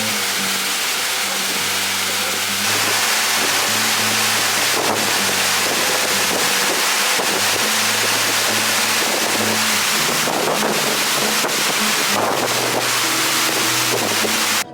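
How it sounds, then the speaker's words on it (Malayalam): A monsoon waterfall in Kottayam crashes onto rocks, a loud continuous broadband roar of falling and scattering water with wind buffeting, steady throughout. "ഇത്രയും ഹൈറ്റിൽ നിന്ന് വെള്ളം താഴേക്ക് വീണിട്ട് ഇവിടുത്തെ പാറകളിലൊക്കെ തട്ടി ചിതറി ഒരു മഴ പെയ്യുന്ന എഫക്റ്റാണ്"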